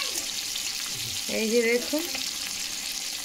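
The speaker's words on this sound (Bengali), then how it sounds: "মাছগুলোকে এখন খুব ভালোভাবে ভেজে নেব।" Hilsa fish frying in hot oil, a steady close sizzle with a brief spoken phrase partway through.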